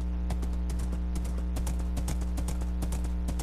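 Steady horse hooves clip-clop in Minecraft, set in an icy biome, a quick even rhythm of close, loud hoofbeats running alone without any talk.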